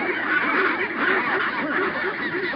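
Penguins in an Antarctic nesting colony call loudly together, a dense chorus of braying, honking cries that overlap continuously at close range.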